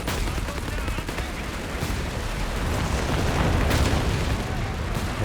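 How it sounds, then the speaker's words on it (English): Artillery strike in Company of Heroes 3, a roar of rumbling explosions and gunfire that builds toward a heavier blast near the end, with a voice faintly under the din. "The variable artillery dropped on the 88 immediately, has to get out of there."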